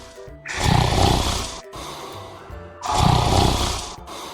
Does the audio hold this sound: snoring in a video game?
yes